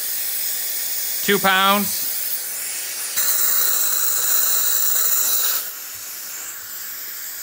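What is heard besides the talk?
air hissing through Elite Engineering high flow catch can valve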